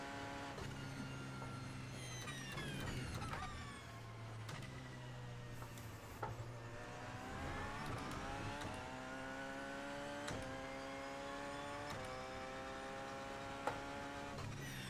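LMP1 prototype race cars in a 24 Hours of Le Mans racing video game whine past one after another, engines rising and falling in pitch with gear shifts, fairly faint and steady with no talk.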